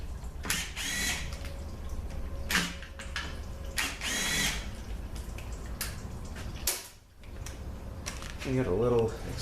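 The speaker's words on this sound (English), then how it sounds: "Take all the 27 bolts out." A power tool spinning out transmission pan bolts on a ZF 5HP19 gearbox from a Porsche Boxster, several short whirring bursts separated by pauses, close and fairly loud in a workshop with no talk.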